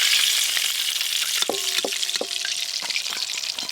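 KFC-style chicken pieces fry in hot oil with a loud, continuous hiss and crackle, while a few clinks of a utensil against the pan sound close by.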